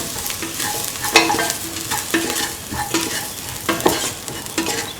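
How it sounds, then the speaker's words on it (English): Chicken and carrot fried rice seasoned with salt is stirred in a hot pan, with repeated spatula scrapes and clatters over a continuous close sizzle. "Mix in the salt."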